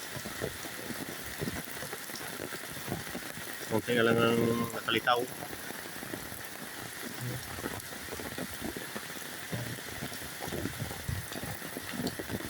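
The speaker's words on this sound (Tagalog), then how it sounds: "Grabe pang ulan. Tuloy-tuloy pang ulan." Heavy, steady rain falling continuously during flooding and landslides in Bicol, a dense hiss throughout with a short louder patch, while someone speaks over it.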